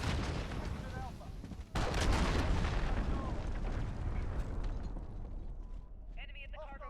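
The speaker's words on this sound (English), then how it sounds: "Allied cruise missile away." A cruise missile strike in Call of Duty: Modern Warfare hits with a sudden heavy boom and a long rumbling roar, followed by scattered gunfire and game voice callouts.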